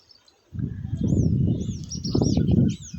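Weaver birds chirp at their hanging nests, about fifty of them, in a palm tree beside a rice field, their high thin calls scattered over a loud low rumble of wind or handling noise that begins after a brief quiet start.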